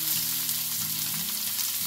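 Chopped onion hits hot oil on a ceramic hob for a sofrito with pepper and garlic, giving a dense, steady sizzle with a low hum underneath throughout.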